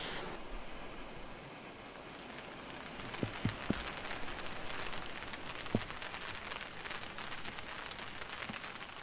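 Light drizzle and rain with gusting wind at a lake campsite, a steady soft hiss throughout with a few faint drop taps and knocks, no voices.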